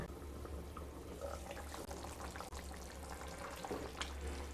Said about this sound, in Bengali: তাই একটু জলের পরিমাণটা বেশি দিলাম